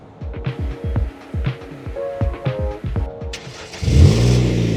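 A 2011–2015 Kia Optima engine cranks and catches after a remote start, with irregular low thumps giving way to a steady, louder idle rumble near the end.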